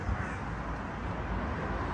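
Crows caw repeatedly near their nest against a steady outdoor background in Torbay, Devon, the calls blending into the ambient noise at moderate distance.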